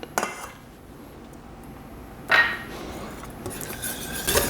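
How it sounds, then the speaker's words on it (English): A whisk clinks and scrapes against a bowl, mixing confectioner sugar and vanilla in quiet, irregular taps with a louder burst of metallic scraping and clattering toward the middle and end. "You just want to whisk it until it becomes a smooth consistency."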